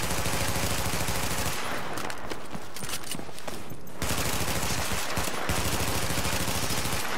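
Loud, sustained automatic gunfire in The Division video game, rapid shots filling the stretch with a short lull in the middle before the firing resumes just as densely.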